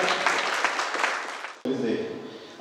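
A crowd at a graduation ceremony in Bogotá applauds in a dense wash of clapping that cuts off abruptly partway through, followed by murmuring voices and a lighter continuation.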